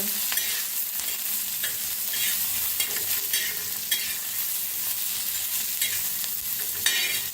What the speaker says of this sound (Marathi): थोडस जिरं टाकायचं आणि मिक्स करून भाजून घेऊया जिऱ्याला